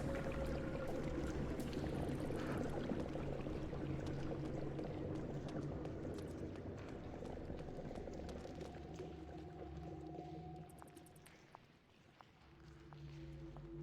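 Water draining away in the video game Legacy of Kain: Blood Omen 2, a steady rushing, pouring wash that stays loud and even throughout and dips briefly near the end.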